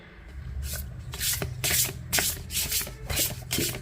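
Tarot cards shuffled by hand in a series of quick papery riffling bursts, close and fairly loud, with brief pauses between the rustles and no talking.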